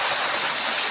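A waterfall at night gives a steady, close rushing roar of falling water, constant for the whole moment with nothing else audible.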